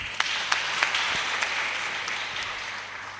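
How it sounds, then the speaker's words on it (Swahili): A church congregation at a PCEA Kikuyu service gives brief applause, a moderate wash of many hands clapping together with a few sharper claps standing out. "Makofi."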